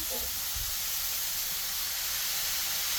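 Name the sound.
bitter gourd (ampalaya) added to hot pan, sizzling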